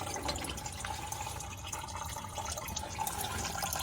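Motor oil drains from a Ford Expedition 3.5L V6 EcoBoost, a steady trickling, splattering liquid stream, fairly quiet and continuous with no talking.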